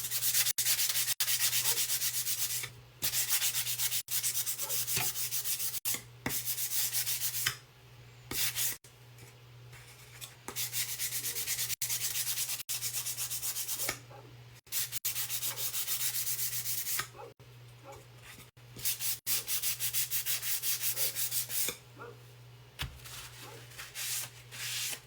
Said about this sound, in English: just lightly going over that with a high grit sandpaper